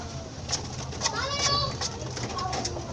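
Pigeons coo softly in a loft in Silang, Cavite, their low murmurs mixed with busy chatter and children's voices nearby, a few brief higher calls rising over the steady background.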